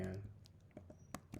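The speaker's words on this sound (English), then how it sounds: "So I'm gonna head over to my command line and type" Keys on a computer keyboard are tapped to enter a terminal command, giving a few sparse, close clicks at an uneven rhythm. A short burst of other noise comes at the very start.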